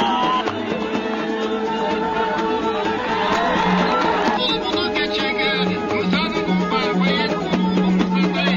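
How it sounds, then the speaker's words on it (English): Spectators at Kyrgyz national horse games cheer in a dense, sustained crowd roar that swells partway through, with voices mingling throughout. "The spectators loudly cheer watching the competition."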